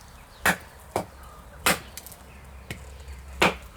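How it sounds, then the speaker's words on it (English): A thick knife blade is batoned through seasoned oak, and five sharp, close cracks and knocks land about half a second to a second apart over a faint background. "You can hear the wood crack, and because of the thickness of the blade, it makes a really short work of it."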